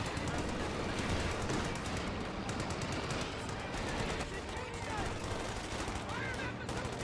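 Sustained machine-gun fire from an MG and a .50 cal in the WWII strategy game Company of Heroes 2, dense and continuous throughout, with battle noise layered underneath.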